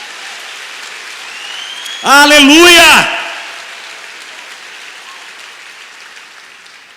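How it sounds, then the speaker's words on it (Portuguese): A church congregation claps in a steady, soft wash of applause at a service. A loud shouted voice rings out over it briefly midway. "dê uma salva de palmas ao Senhor mesmo aí"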